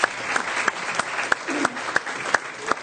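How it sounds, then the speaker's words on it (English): An audience gives panelists a round of applause at a public panel event. The clapping is sustained and moderately loud, with a few sharper individual claps standing out above the dense wash of hands. "Round of applause for our panelists."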